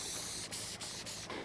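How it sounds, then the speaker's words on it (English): Pressurised shad scent spray is spritzed onto fishing bait in several short bursts, close and fairly quiet, with no talking. "I'm gonna put a little shad spray on."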